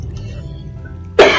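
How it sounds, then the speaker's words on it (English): A single short cough bursts out abruptly after a quiet stretch of faint background hum. "I have to cough"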